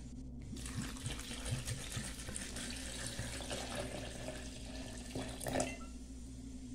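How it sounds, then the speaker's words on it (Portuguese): Ice-cold water pours into a blender jar with mint leaves and lemon for lemon mint juice, a steady rushing stream with splashy gurgles close up, lasting several seconds without speech. "E água bem geladinha."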